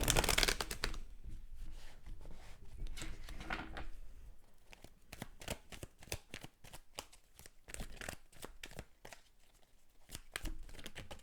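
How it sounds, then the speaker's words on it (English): Tarot cards are shuffled by hand in repeated quick riffling bursts of crisp paper flutter, close and moderately loud, with brief pauses between rounds. "So let's pull more cards for you"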